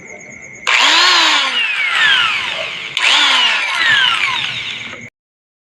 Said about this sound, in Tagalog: Kumanda rin yung grinder. Try natin.